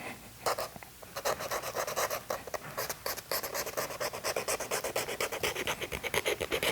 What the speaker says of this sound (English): you do need to sand anything that's rubber or plastic